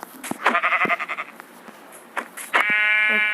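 A goat in a Minecraft survival game gives a short, wavering bleat followed by another longer, tonal bleat, close and clear, amid light game sounds.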